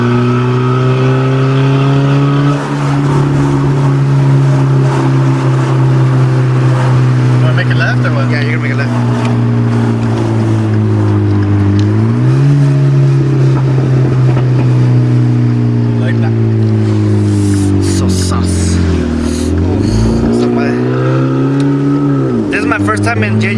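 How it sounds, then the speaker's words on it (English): Honda car with VTEC accelerating hard, a loud close engine drone climbing through the gears with the pitch rising and dropping at each shift, voices talking inside the cabin. "it goes fast. VTEC and everything kicks in"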